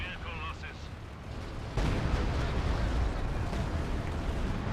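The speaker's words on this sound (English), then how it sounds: "Stuka bomb coming in." A Stuka dive bomber's bomb explodes in a 4v4 tournament war video game: a sudden heavy blast hits partway through, then a dense, loud rumble of battle noise rolls on beneath a commentator's voice.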